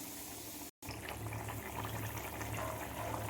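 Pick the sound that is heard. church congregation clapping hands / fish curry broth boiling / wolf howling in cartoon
fish curry broth boiling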